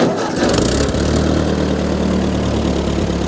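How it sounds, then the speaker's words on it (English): A Ford 8N tractor engine cranks briefly, then catches and settles into a steady, throbbing idle, loud and close with no talking. "Hold the brake, push down the clutch, make sure the tractor's in neutral, push the starter"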